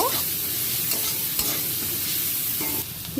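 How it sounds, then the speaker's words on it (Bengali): Chopped onions with salt sizzle and fry in hot oil in a pan while being stirred, a loud, continuous close-up hiss with faint scraping. "তেলটা গরম হয়ে গেছে আমি পেঁয়াজ কুচি দিয়ে দিচ্ছি এর মধ্যে লবণ দিয়ে দিচ্ছি নেড়ে ছেড়ে পেঁয়াজটা আমি ভেজে নেব"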